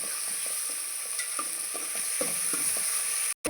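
Steady frying sizzle of onions and tomatoes in a pan with repeated stirring scrapes at an irregular rhythm, close and continuous, no talking.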